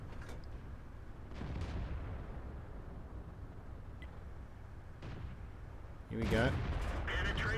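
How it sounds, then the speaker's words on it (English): Tank cannon shots from a StuG III G in World of Tanks thud out as a few distant, muffled booms spaced a few seconds apart, with a sharper, louder blast near the end, and someone speaks briefly. "You can see the rate of fire of the gun is pretty darn good though."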